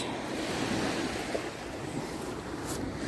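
Lake water washing steadily onto a rocky beach, a continuous broad rush with light wind, moderately loud and unbroken, no voices.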